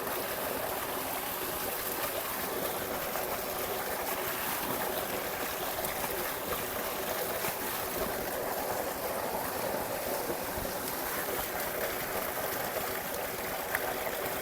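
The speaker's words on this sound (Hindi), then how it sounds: "मोटर फिलहाल चल रही है" Water gushing steadily from a running motor pump in a village while spinach is washed, a continuous rushing splash with a low mechanical hum beneath, even and unbroken.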